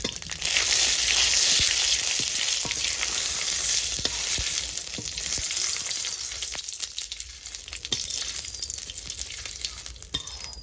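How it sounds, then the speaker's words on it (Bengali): Cumin seeds fry in a little hot oil, a bright crackling sizzle that starts loud and eases slightly, with scattered pops and light stirring ticks and no voices. "এবার আমি এই তেলের ভিতরে একটু জিরে ভেজে তুলে নেব"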